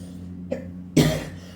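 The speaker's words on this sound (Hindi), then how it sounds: "सॉरी खांसी के लिए" A single cough from a teacher, a faint throat sound followed by one sharp, close burst that trails off quickly in a quiet room.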